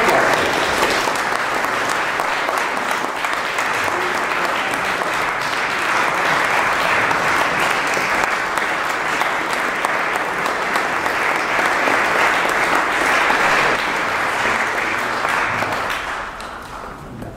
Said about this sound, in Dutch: En applaus.